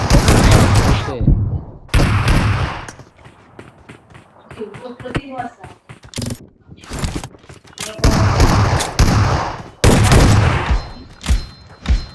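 Gunfire in a 2v1 Wow Mode online shooter match, with loud bursts of rapid shots and scattered single cracks separated by quieter stretches, while players talk excitedly over the action.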